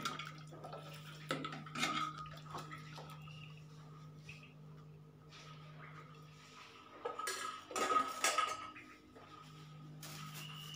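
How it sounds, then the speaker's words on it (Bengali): Hot milk is poured into a bowl while making sweet yogurt, heard as a few soft splashing, trickling pours with light clinks of the vessel, quiet and close, separated by near-silent pauses. "এবার আমি গরম দুধটা এই বলের মধ্যে ঢেলে দেব রুম টেম্পারেচারে আসার জন্য"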